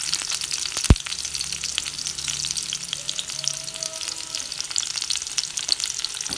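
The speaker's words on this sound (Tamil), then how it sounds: "சின்ன வெங்காயம் நல்லா வதங்கினதுக்கப்புறம்" Shallots sauté in hot oil in a pan, a constant close sizzle with a sharp knock near the start and faint scraping stirs, no talking.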